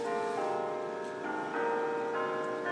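Bells ring with sustained, overlapping tones, each new strike layering onto the fading hum of the last, moderately loud and steady throughout.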